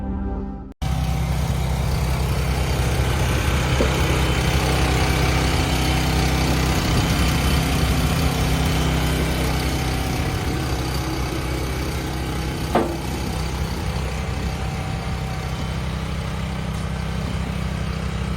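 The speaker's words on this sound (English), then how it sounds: "Its engine hums to life, exhaling thick white plumes that mix with the morning fog." A wood splitter's engine runs steadily on a foggy morning with frozen pine logs, a loud, even idling drone that holds unchanged for the whole stretch, broken only by a brief click.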